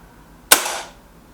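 A Beeman 1357 air pistol fires Express pellets at a target: one sharp, close crack that rings briefly and fades, with no voices.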